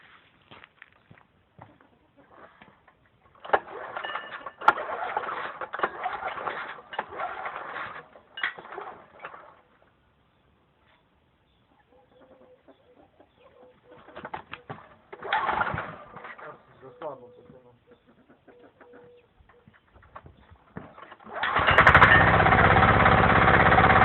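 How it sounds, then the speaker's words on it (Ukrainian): A Zirka 105 walk-behind tractor left idle for nine months is cranked over outdoors: scattered pulls and rattling bursts with pauses between them, then the engine catches and runs loud and steady at the end. Pigeons coo faintly in the background. "от мотоблок не заводився"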